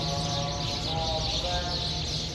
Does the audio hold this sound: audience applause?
no